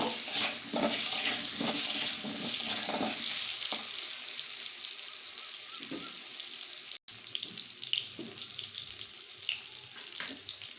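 Whole round-cut potatoes frying lightly in hot oil, a steady broadband sizzle with scattered utensil clinks and stirring scrapes, close and continuous, briefly dropping out near the middle before resuming.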